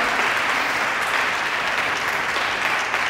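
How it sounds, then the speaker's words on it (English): An audience at an educators' awards ceremony applauds in a sustained burst of clapping, dense and steady from start to finish with no talk over it. "big round of applause"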